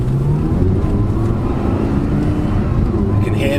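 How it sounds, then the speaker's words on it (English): The Lamborghini-sourced V10 engine of an Audi R8 with carbon ceramic brakes sounds loud and close, a continuous, throaty whirring drone that holds steady throughout. "You can hear the V10 whirring up"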